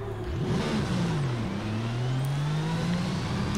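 Mercedes-AMG One hybrid hypercar in Forza Horizon 5 revving hard as it accelerates, its engine note climbing steadily in pitch with a continuous loud whine, close and sustained with no talking.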